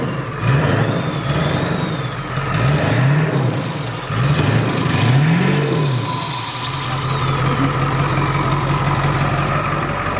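A 7.3 Power Stroke diesel truck engine idles steadily with an exhaust leak, a low rhythmic chugging with repeated puffing pulses and a brief rev, heard up close with background voices.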